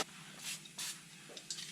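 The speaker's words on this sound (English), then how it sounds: "So going on a little bit of lube spray," Short hissing bursts of lubricant spray, such as WD-40 or Inox, from an aerosol can, three or four quick spurts separated by brief pauses, close and fairly quiet.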